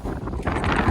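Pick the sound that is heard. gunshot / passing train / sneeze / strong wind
strong wind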